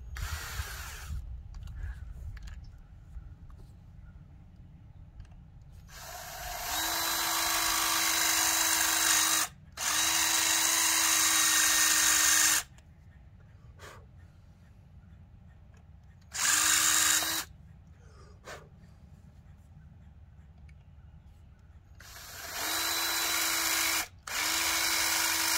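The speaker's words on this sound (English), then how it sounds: "about to drill into a battery." A power drill bores into a battery in several bursts, a high whirring whine rising and cutting off, with quiet gaps and small handling clicks between runs.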